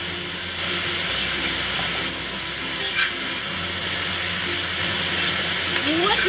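Purslane stir-frying in a wok with salt, sesame oil and Shaoxing wine, a continuous close hiss and sizzle with some stirring scrapes and a brief squeak near the end.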